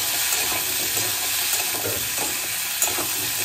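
Taro and potatoes with salt and turmeric are stirred in a hot pan, a steady close sizzle with soft scraping of a spatula running throughout and no talk.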